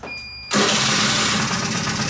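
A Kymco Vitality scooter engine with no air filter and the choke disconnected starts abruptly after a brief quiet moment, then settles into a loud, steady close-up running roar.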